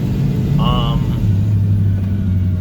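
The 6.0L VT365 diesel engine of a 2006 Ford F650 truck, which has no power under load, rumbles close by, with a brief high whistling rush as excess boost vents through the air cleaner.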